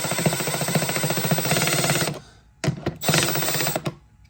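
Quick release pins self-tap holes into Milwaukee Packout plastic, giving a loud, dense rapid ratcheting grind for about two seconds, then a pause and two shorter bursts of the same grinding.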